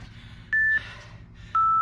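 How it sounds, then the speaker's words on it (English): Two short electronic beeps sound apart, each a clean steady tone, over a quiet background hum. "Listen out for the beeps."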